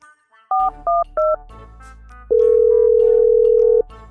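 Telephone keypad dialing in a Bangladeshi village setting: three short touch-tone beeps in quick succession, then a long steady tone lasting over a second, loud and clear with no talk over it.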